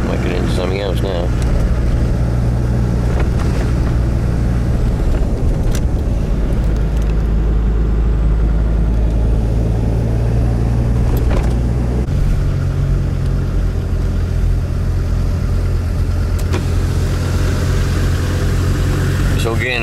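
Car engine hums steadily with low drone and shifting pitch while driving around a residential area past an old factory site, continuous and close throughout.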